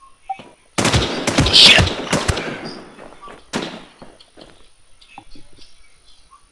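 Video game machine gun fire from a 100-round weapon crackles in a dense, loud burst of rapid shots, followed by scattered single shots and softer distant pops, with a player swearing briefly over the gunfire.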